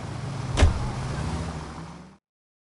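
A car driven in the video game L.A. Noire, a steady engine drone with a brief knock near the start, running evenly before cutting off abruptly.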